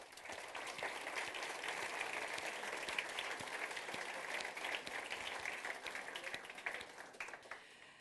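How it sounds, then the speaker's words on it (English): Audience applause fills a conference hall at the opening of a Codemotion event at Roma Tre University in Rome: steady, dense clapping from many hands that holds for about eight seconds and tapers slightly at the end, with no talking. "So please, a big round of applause for all of them."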